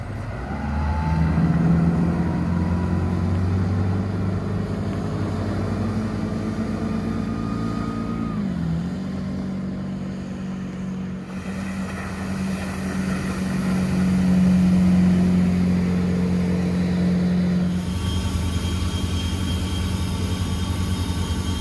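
A Glastron 255 GXL boat with a 375 HP Volvo Penta 8.1Gi engine accelerates, its steady engine drone rising and shifting in pitch over rushing water and wind, loud and close.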